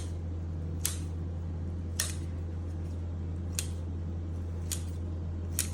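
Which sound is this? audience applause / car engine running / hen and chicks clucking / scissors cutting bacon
scissors cutting bacon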